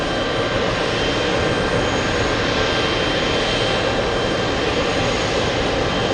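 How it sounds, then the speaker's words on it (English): Jets taxiing at JFK airport, including a couple of G90s, produce a loud, continuous broadband engine roar that holds steady and close throughout, with no voices. "a couple of G90s taxiing right below"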